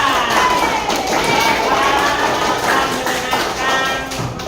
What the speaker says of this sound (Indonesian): tepuk tangan untuk kelompok kata